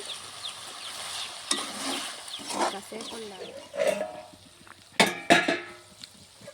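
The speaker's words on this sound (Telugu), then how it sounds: "మధ్య మధ్యలో తీసి ఇలా కలుపుకుంటూ చూస్తూ ఉన్నాను" Chicken fries in a pan, its soft sizzle broken by scraping stirs and a few sharp metallic clatters, with a voice speaking over it in places.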